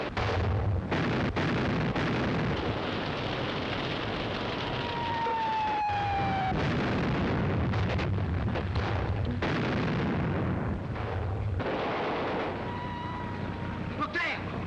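Battleship artillery shells firing and exploding in an old film scene, a continuous roar of blasts and booms at high volume, with a few whistling tones streaking through.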